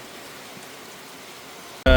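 Rain falls steadily near Adams Peak, a soft, even hiss throughout, ending in a sudden loud burst of noise at the very end.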